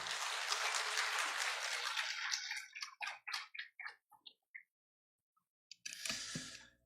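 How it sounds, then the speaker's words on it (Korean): Church congregation applause welcoming the pastor at a Sunday service, a wash of clapping that tapers into a few separate, spaced claps, then silence before a brief final burst. "우리 목사님 나오실 때 환영합니다 하고 박수 한번 드립시다"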